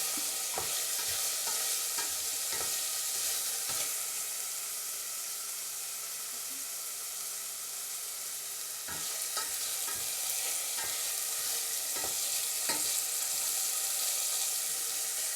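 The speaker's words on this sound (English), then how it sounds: "We let this saute for 2 to 3 minutes." Chicken breast sautéing in a pan gives a steady close sizzle, with intermittent scrapes and taps of a utensil stirring; no voices.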